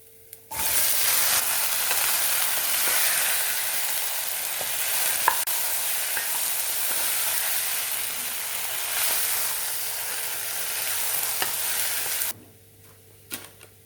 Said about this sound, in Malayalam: കപ്പ ഇതിനകത്തേക്ക് ഇട്ട് ഇളക്കണം.